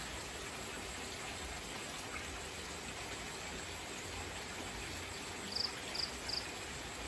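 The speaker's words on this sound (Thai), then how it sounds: "ฝนตก" Light rain falls as a faint, steady hiss, with a few soft insect chirps late in the stretch. It sounds distant and even, with no one speaking.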